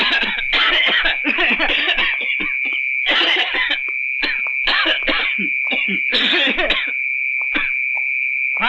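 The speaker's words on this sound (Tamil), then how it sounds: "நாங்க இருமல் பண்ணி சிக்னல் கொடுக்குறோம்" A rapid series of loud, close coughs and throat-clearing bursts used as a signal, some in clusters, over a steady high-pitched electronic tone.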